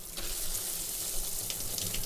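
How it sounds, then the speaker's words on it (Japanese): A shower runs in a small shower area of a balcony cabin's bathroom aboard a Costa cruise ship, a steady close hiss of spraying water with no voices. "シャワーの水圧チェック。"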